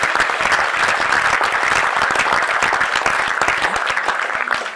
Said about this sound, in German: dann hast du meiner Meinung nach einen großen Applaus wert